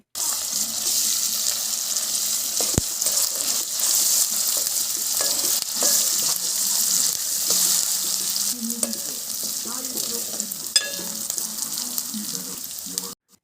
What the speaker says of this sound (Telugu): ఇప్పుడు నూరుకున్న అల్లం వెల్లుల్లి పేస్ట్ వేసుకొని కలుపుకోవాలి